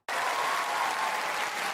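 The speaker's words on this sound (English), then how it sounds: "They started clapping before he was done talking." A large convention crowd at TwitchCon Rotterdam 2025 bursts into loud, dense applause and cheering that starts abruptly and holds steady throughout.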